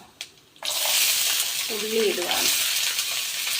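Onion, ginger and green chilli hitting hot oil in a pan after mustard seeds have popped, a sudden loud sizzle that settles into steady frying, with a brief voice over it partway through.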